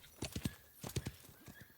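Horse hooves clatter in short clusters of quick strikes, mixed with a whinny, in the video game Wild West Online; close and moderately loud, with no talking.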